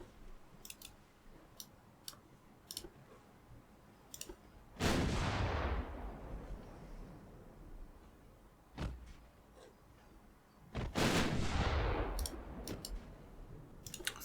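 Two heavy naval gun salvos from destroyers in Ultimate Admiral Dreadnoughts, each a loud booming blast with a long rumbling decay, separated by sharp clicking ticks and a few fainter distant shots.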